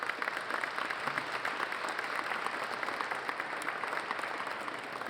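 An audience at an induction ceremony claps steadily and evenly throughout, a dense, continuous wash of applause with no voices over it.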